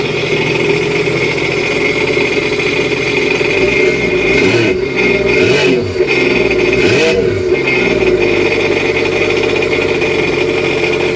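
A jet ski engine starts for the first time after assembly, a loud, steady motor drone that runs continuously with some revving swells midway, close and dominant.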